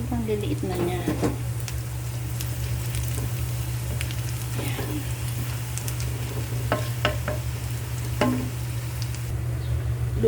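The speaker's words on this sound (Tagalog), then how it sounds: "Iluluto natin ang small dilis." Small dried anchovies (dilis) frying in a pan give a continuous sizzle with scattered sharp clinks and scrapes of stirring, over a steady low hum, with a voice speaking at moments.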